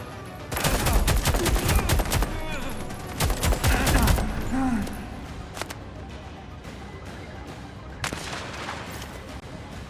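Loud, rapid gunfire salvo from the Expanse: Osiris Reborn video game: dense volleys of shots for several seconds, then a quieter stretch with scattered single reports and a late burst.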